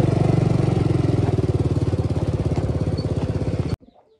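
A New Holland TT4.75 tractor engine running close by with a steady, rapid thumping pulse, then cutting off abruptly near the end, leaving faint rustling.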